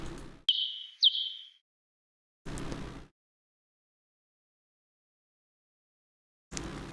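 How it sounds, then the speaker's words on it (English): A short high-pitched chirp plays twice as a stream alert box sound effect, a bat-like squeak on a follow alert, each a brief falling tone about half a second apart, separated by bursts of low room noise. "The little bat chirp noise."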